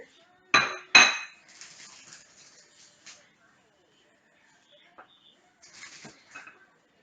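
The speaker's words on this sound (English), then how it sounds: "I'm just grabbing a plate to put a bit of plain flour on" A plate is lifted from a stack in a kitchen: two sharp ceramic clinks ring out close together, then softer rattles and a few scattered light knocks follow over quieter stretches.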